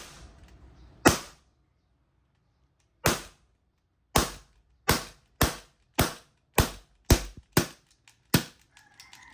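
An Umarex T4E TP50 CO2 pistol fires about eleven sharp shots, at first spaced apart and then in quick succession, near and loud against quiet between reports, until the gas runs out.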